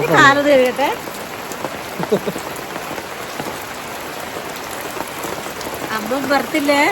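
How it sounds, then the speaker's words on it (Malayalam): Heavy rain pours down in a continuous dense hiss of drops hitting surfaces, loud and close, with people talking over it at the start and again near the end. "മഴയാണ്"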